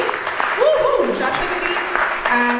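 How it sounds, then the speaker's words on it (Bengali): An audience claps at a centenary tribute concert held by a Probasee Bengalee association, with moderate applause running beneath a voice speaking over it. "মানুষদের জন্য একটা জোরে হাততালি হবে"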